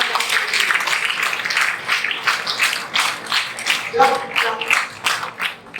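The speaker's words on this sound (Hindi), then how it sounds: "इनके लिए तालियां बजाएं जिन्होंने गोल सेट किया।" Seminar audience in a hall claps for attendees who set goals, with sparse, uneven clapping from a modest crowd that rises and falls in loose bursts.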